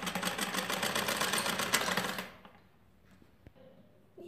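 A sewing machine runs in a fast, continuous whir as it stitches fabric along buckram for a blouse neckline, then stops abruptly, leaving quiet handling noises and a single small knock.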